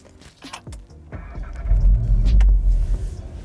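A Volkswagen Golf R engine cranks and catches, its low rumble swelling into a steady, loud idle after a few quiet clicks and key jangles.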